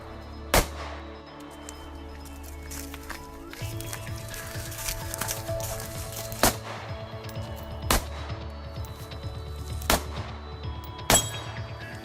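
Scattered gunshots ring out at an outdoor shooting session, several sharp, separate cracks spaced a few seconds apart over a steady low background hum, with no talk.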